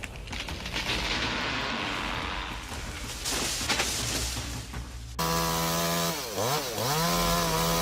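A chainsaw cuts into a tree with loud, rough buzzing, then the engine revs in sweeping pitch rises and dips, close and dominant throughout.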